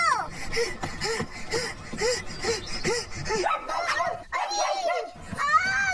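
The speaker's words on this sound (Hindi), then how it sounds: "कुत्ता मेरे पीछे लगा हुआ है" A dog gives a quick series of short, regular barks and yips, then excited voices and higher whining cries take over toward the end.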